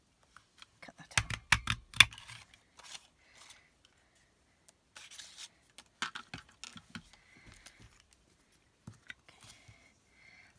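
Paper snipped with scissors to cut out a stamped card piece: a close burst of quick crisp cuts, then scattered lighter snips after a pause, quiet and up close with no talking.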